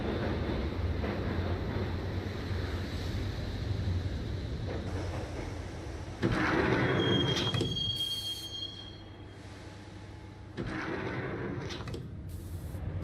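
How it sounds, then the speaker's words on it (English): Train ride in the Max Payne video game: a steady rumbling roll of wheels on rail fills the whole stretch, with louder surges of clatter and a thin metallic squeal partway through, and no talking. "the train doors had already shut behind me, and I was in for the ride"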